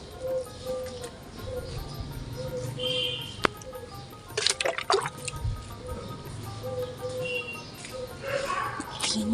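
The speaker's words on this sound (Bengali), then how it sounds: "তো চলো জলটা দিয়ে দিই" Water poured onto the dried-out base of a potted plant, soft dripping and trickling with a few wetter splashes, a low steady hum underneath.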